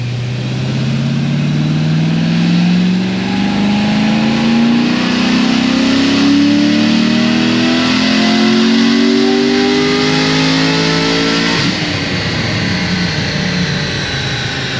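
An LS7 V8 engine screams through a full-throttle dyno power run, its loud, rising roar climbing steadily in pitch for most of the pull before cutting off sharply near the end.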